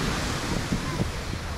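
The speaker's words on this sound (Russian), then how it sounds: "Вот одна волна большая возле берега." Sea waves break near the shore at Nha Trang, Vietnam, a loud, continuous wash of surf with wind buffeting the microphone and a voice faintly mixed in.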